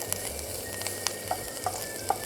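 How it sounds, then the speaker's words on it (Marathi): Crushed garlic frying in butter for a crab pizza, a soft continuous sizzle close by with a few light clicks from stirring, no voices. "मस्तपैकी बटरमध्ये लसूण परतून घ्या"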